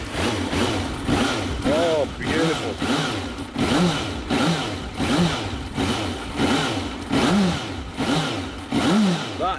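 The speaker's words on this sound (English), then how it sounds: "let's have a listen at that engine" Close Suzuki GSX650F inline four-cylinder motorcycle engine idling smoothly, then revving up and down repeatedly in steady waves; a person briefly speaks over it.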